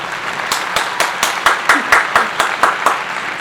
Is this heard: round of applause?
yes